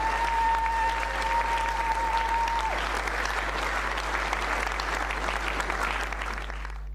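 A church congregation applauding the Lord, a dense, steady wash of many hands clapping together that holds loud and even throughout, with a faint sustained tone fading out early on.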